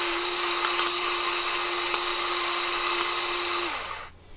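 An Ozeri electric pepper grinder grinds peppercorns on its finest setting. It gives a steady, close, high-pitched motor whine that runs for several seconds and then winds down and stops.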